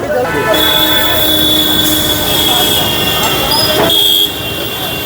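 High-pitched metallic squeal of Kolkata tram wheels grinding on rails as it turns right around a curve, loud and sustained over a rumbling background.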